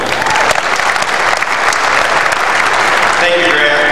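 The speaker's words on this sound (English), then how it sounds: "Please give him another round of applause real quick." A conference audience at a 1997 state leadership session gives a guest speaker from Growmark Corporation sustained, dense applause. The clapping is loud and close, with a steady wash of many hands throughout.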